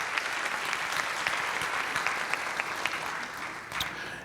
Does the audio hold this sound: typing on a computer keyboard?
no